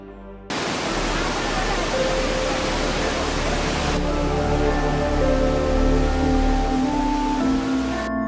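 Seven Sisters Falls at Cherrapunji, Meghalaya, gives a steady, dense broadband rush of falling water that holds loud throughout, with tonal music layered over it, especially in the second half.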